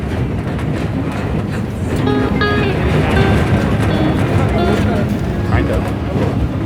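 A train on the Durango line rumbles steadily along a track high on a cliff edge above a lake and forest, with a low, continuous roar while people talk over it in the foreground.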